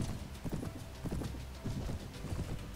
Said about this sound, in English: I am at least on a horse